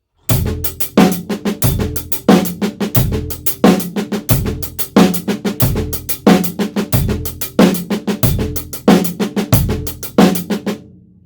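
A faster paradiddle groove on a drum kit: dense, driving strokes with busy cymbals and a punchy kick, played alone, close and loud.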